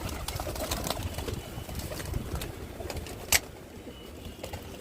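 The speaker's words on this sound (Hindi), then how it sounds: "और ये बॉक्स के अंदर आप सभी को तो पता ही होगा मैंने नीलम कबूतर रखा हुआ है" Soft cooing of a Neelam pigeon kept inside a box, faint low calls under steady outdoor background noise, with one brief sharp knock partway through.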